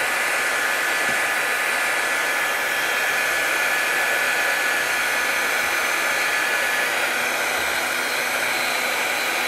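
A heat gun warms a brass strip on a Boulle cabinet during restoration, producing a loud, steady rushing hiss that never lets up, with no talk.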